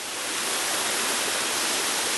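A waterfall in the Blue Ridge Mountains on a misty, overcast day rushes in a steady, broad roar that is fairly soft and holds evenly throughout, with no voices.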